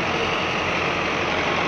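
Tractor engine running steadily at idle in a wheat harvest field; a continuous, close, low diesel rumble with an even drone and no talk over it.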